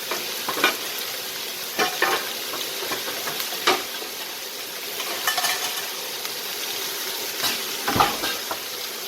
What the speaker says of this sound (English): So I'm sauteing the steak.